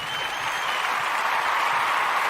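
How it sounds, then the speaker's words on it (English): An audience at a Umoja Day gathering applauds steadily, a dense wash of clapping that holds evenly throughout at moderate loudness, without speech. "we want to give all the Umoja born a round of applause"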